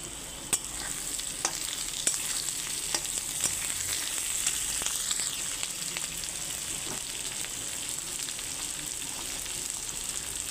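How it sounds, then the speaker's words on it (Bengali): Potatoes fry in a pan for a rohu fish curry with beans and eggplant, giving a steady close sizzle broken by scattered clicks and scrapes of stirring. "আমি এখন এই পর্যায়ে আলুগুলো ভেজে নেব।"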